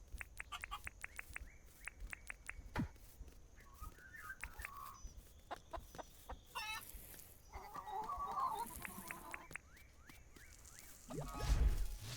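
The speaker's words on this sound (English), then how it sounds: "let's go check on our chickens real quick" Chickens cluck and chirp in short bursts in the video game Dinkum on Switch, over a soft background, with a few light clicks and a brief louder thump near the end.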